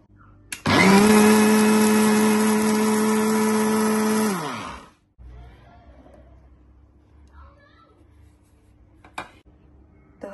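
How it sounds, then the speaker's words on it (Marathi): A mixer grinder whirs loudly and steadily for about four seconds grinding roasted homemade biryani masala, then winds down and stops, leaving faint handling noises and a brief click afterward. "आता आपण ह्याला थंड झाल्यावर मिक्सरमध्ये छान बारीक करूया."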